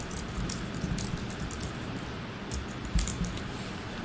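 Quiet, rapid clicking of keys on a computer keyboard as a short message is typed, soft taps running in an uneven stream close by.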